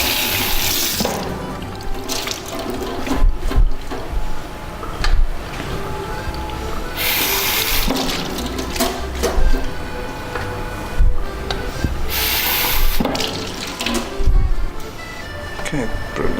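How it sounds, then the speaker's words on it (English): Peppers rinsed under a running kitchen tap, water splashing steadily with bursts as the flow hits the vegetables, while a person talks over it. "Let's give it a quick rinse."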